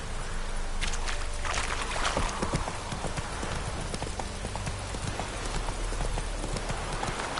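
Horse Roach's hooves clip-clop steadily in a video game, a continuous close, even gait of hoofbeats over ambient noise, with no talking.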